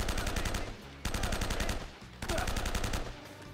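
Rapid automatic gunfire from the video game Uncharted: Drake's Fortune comes in three loud, close bursts separated by brief pauses, with no voices.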